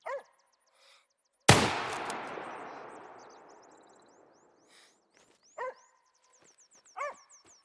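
A bloodhound in the hunting game theHunter: Call of the Wild gives a few separate short barks, one at the start and two near the end. A single sharp rifle shot with a long echoing tail sounds between them.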